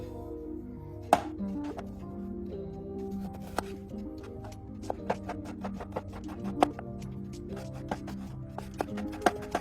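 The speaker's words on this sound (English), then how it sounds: "we're going to take 1/4 cucumber and we're going to cut this into thin" A knife cuts a cucumber quarter into thin matchsticks on a board, a run of quick, crisp taps at an uneven rhythm, close and fairly quiet with no talk.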